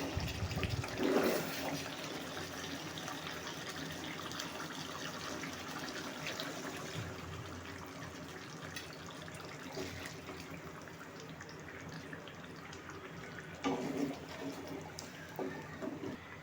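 Hot water is poured into a pot of simmering chicken curry, producing a continuous watery rush and trickle, slightly louder at the start and near the end, with no talking.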